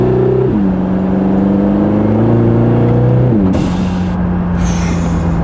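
A Lotus Emira four-cylinder fitted with a valved sport exhaust revs up and settles, its engine note rising and falling in steps. A loud whooshing burst near the end marks the valves shifting, close and strong with no talking.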